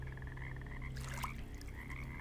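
Frogs croak in the video game Children of Morta, a soft rhythmic chorus of repeated croaks over a low droning ambient background, faint and alone without talk.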